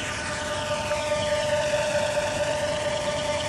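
A Lockheed Martin Samarai monocopter UAV's motor at full throttle whines loudly and steadily for the whole stretch, a sustained tonal drone over broadband rushing noise, with no talk.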